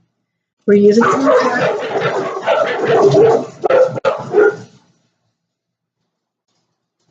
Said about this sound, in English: like I was starting before the dog started barking